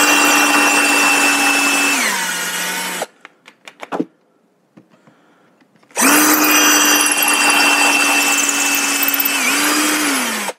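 Power drill boring into cured resin on a surfboard, whining loudly in two long bursts with a pitch drop near each end, separated by a quiet gap holding a few faint clicks and taps.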